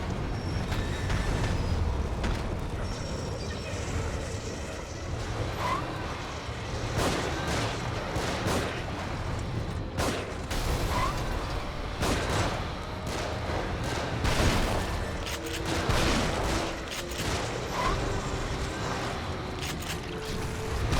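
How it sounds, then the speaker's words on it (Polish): Repeated gunshots and heavy thuds crackle through a dense, continuous din of battle sounds in The Evil Within, fairly loud throughout. "słyszę strzały."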